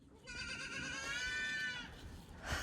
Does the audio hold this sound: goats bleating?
yes